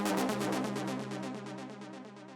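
Raw techno synth lead, a bright buzzy tone pulsing in fast even repeated notes with rich harmonics, steady and loud throughout, slowly fading slightly toward the end, with no voices.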